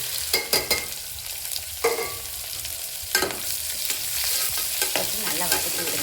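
Three large sliced onions frying in a pan, a loud continuous sizzle broken by several scraping stirs and clatters of a spoon, close and without speech.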